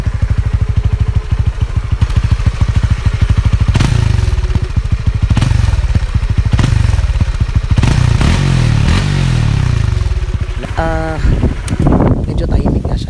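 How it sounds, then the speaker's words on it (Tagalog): Honda Supra GTR 150 motorcycle idling and revving on its stock exhaust, a steady close engine rumble with rising rev sweeps and wind buffeting on the microphone. "sound check natin guys yung stock na tambucho niya"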